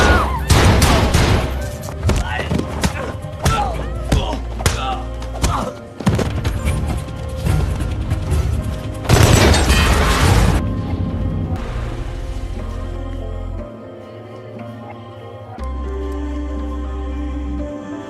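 A gunfire shootout in a film: dense, rapid volleys of loud shots and crashing impacts over the first ten seconds, then a quieter stretch of low rumbling and background score.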